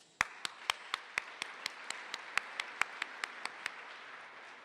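Sharp, evenly spaced claps ring out at a steady pace at a county forum, faint and distant, with no talking over them.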